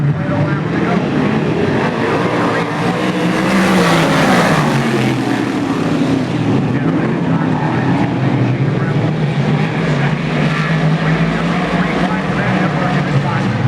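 Big block modified race cars roar around Brewerton Speedway, a loud, dense wash of engines swelling and fading as the pack passes, with an announcer talking over the racket.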